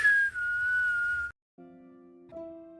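A single clear whistled tone gliding slightly downward, then a short pause and a few steady higher whistled notes, close and alone.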